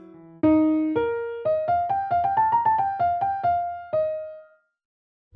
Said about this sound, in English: How about a crazy one with an eighth note triplet and a quintuplet in a time of a quarter note triplet?